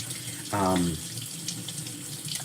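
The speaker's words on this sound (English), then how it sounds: "You guys need to rinse it to get rid of that" Frozen chicken thighs are rinsed under a kitchen faucet in a short, close burst of running water lasting about half a second, followed by quiet room noise.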